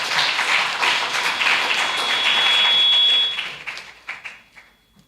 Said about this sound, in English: So let's give our principal a round of applause.